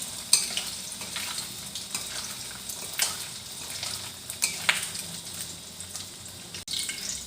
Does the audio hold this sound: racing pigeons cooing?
no